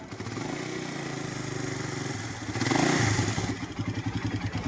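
A motorcycle engine at 13,000 km idles with a rapid metallic ticking rattle, briefly revving louder before settling back into a pulsing idle.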